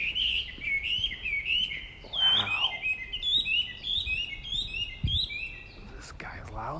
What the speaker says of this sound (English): Some kind of a warbler.